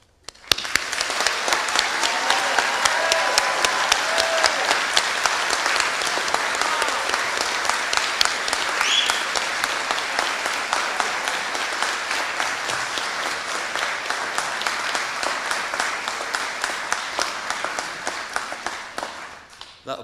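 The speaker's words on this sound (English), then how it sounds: "Applause is well deserved" At a college graduation ceremony the audience breaks into long, full applause, many hands clapping steadily for about twenty seconds before tapering off near the end, with a few scattered voices in the crowd.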